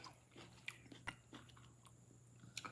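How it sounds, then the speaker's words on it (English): A half-hard baked snack from a cafe is bitten and chewed close to the mouth, giving a handful of faint sharp crunches scattered over a quiet steady hum, with no talking. "I don't know if you can hear that crunch."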